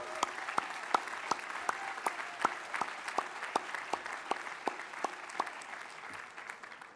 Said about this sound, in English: So let's applaud all the faculty, staff, and other mentors who've supported and encouraged all of your endeavors